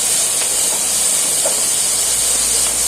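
Chivai greens going into a hot pan and being stirred, a steady loud hiss of steam and sizzle running unbroken throughout with no voices.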